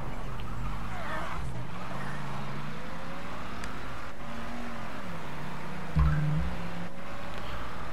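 A car driving in the video game Mafia 3, its engine droning and shifting pitch as it accelerates and eases off, with one brief thump near the end, steady and moderately loud.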